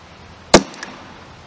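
A single sharp, quiet crack from a Winchester Super Suppressed subsonic .22 LR round, a brief close report followed by a faint tail and a tiny secondary tick.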